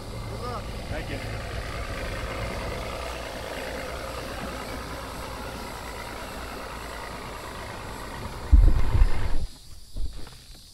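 A steady, low boat engine drone idles throughout on the water during a fishing tournament, with a louder rumble surging near the end.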